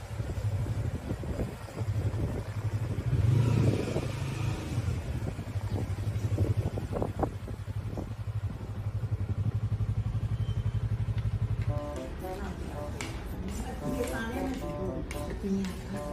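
A ride on a three-wheeled tricycle gives a steady close rumbling and clattering drone that continues unbroken, turning rougher and more rattly near the end.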